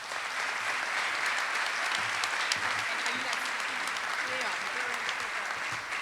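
Audience clapping at an honoring ceremony for those who serve, a sustained, dense round of applause at an even level throughout, with faint voices mixed in.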